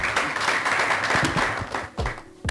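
Applause from an audience at a Burundian music event, a dense wash of clapping that holds steadily for a couple of seconds, then breaks briefly before resuming.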